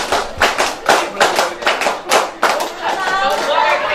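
Hand claps in a scout-style clapping game, a group beating out a rhythmic pattern of sharp claps in quick bursts, with a voice talking through it.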